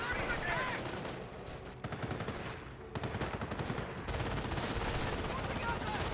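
MG42 machine guns fire in a Company of Heroes battle, with bursts of rapid gunfire layered over other shots and explosions while a commentator talks throughout.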